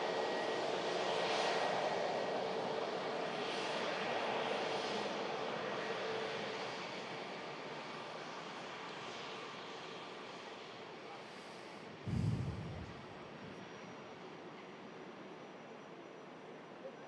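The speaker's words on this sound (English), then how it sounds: "Attention to the landing Jet2 from Pisa." A Jet2 airliner arriving from Pisa lands at Manchester Airport. A broad engine roar fades over several seconds, then a short low thump of touchdown and a lingering rumble.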